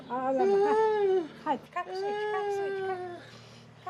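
A thirsty, agitated cat gives long, drawn-out crying meows, several in a row with a short break between them. A voice speaks softly alongside the cat.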